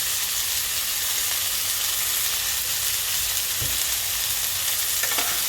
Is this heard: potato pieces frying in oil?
yes